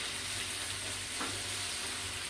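Beef fries in a pan with a steady, soft sizzle, heard close and fairly faint throughout, with no talking.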